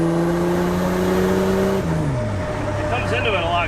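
Turbocharged Buick Grand National, a barn find running only 5 pounds of boost, accelerating on the road; a loud, steady engine drone whose pitch drops partway through as if shifting gear, then climbs again.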